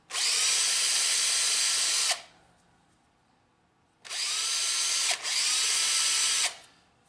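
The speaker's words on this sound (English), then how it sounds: "And that's just to drill the hole to final size." A drill bores a hole to final size in a thick metal casting in two loud, steady bursts of about two seconds each, separated by a quiet pause, with no talking.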